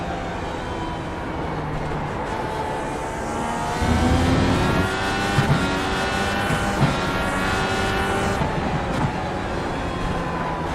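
IndyCar race car engine in the iRacing video game on the Mid-Ohio road course, a steady loud droning whine with rising and falling pitch through gear changes, continuous throughout, with other cars faintly present.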